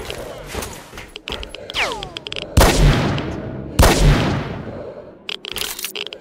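Gunfire in the video game STALKER: Shadow of Chernobyl, a few loud, sharp shots with decaying booms cutting through scattered clicks and rattles, close and abrupt.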